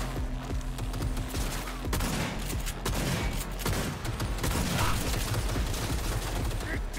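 Rapid bursts of gunfire in the video game Cyberpunk 2077, dense continuous shooting with sharp booms throughout and a voice talking over the firing.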